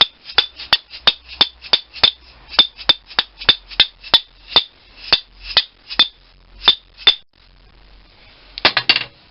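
A dead blow hammer taps parts of a pedestal drill vice into place during a rebuild: about twenty sharp, close knocks in a fairly even rhythm, then a brief quick cluster at the end, no talk.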